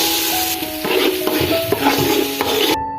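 Ginger and garlic stirred in a hot pan while cooking mandi: a steady sizzle with scraping and clinking of a spoon against the pan, close and fairly loud, cutting off abruptly at the end.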